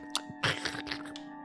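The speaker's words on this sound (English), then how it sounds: "It was crunchy. There was a slippery flesh noise." In a video game, a crunchy, slippery flesh noise sounds as a few close, wet crunching bites and squelches over a faint steady hum.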